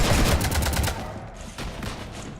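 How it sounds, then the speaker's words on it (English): Rapid burst of video game gunfire from Mass Effect, loud and dense for about a second, then scattered further shots trailing off. "You want to stop shooting up my ship?"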